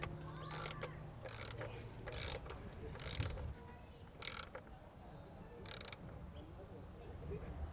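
Ratchet wrench clicking in six short, quick bursts while tightening down a part on a Nissan 350Z during an oil leak fix, close by with quiet gaps between bursts.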